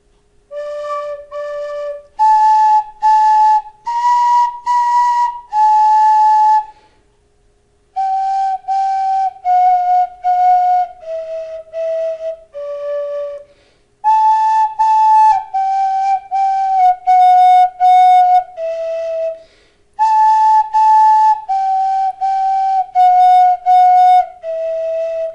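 A Clarke tin whistle plays a slow tune alone, with clear sustained notes in phrases separated by short pauses, close and loud throughout.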